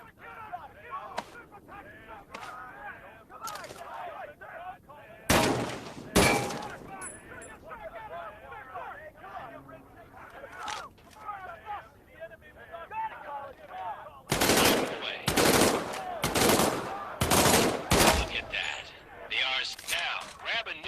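M1A1 submachine gun bursts in the video game Medal of Honor, sharp loud shots clustered in quick runs, one pair early and a longer volley later, with a voice talking between and under them.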